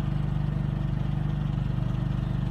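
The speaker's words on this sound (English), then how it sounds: "I heard a little something from the generator, revved up a little bit" Generator on a Winnebago Rialta RV running with a steady low hum and a regular pulsing throb, close and fairly loud, with no voices over it.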